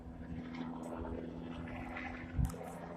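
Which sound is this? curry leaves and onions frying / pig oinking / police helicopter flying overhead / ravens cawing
police helicopter flying overhead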